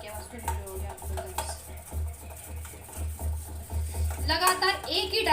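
A spoon beats gram flour batter for pakoras in a bowl with rapid, rhythmic clinks and scrapes in the home kitchen, while someone talks over it and a low hum runs underneath.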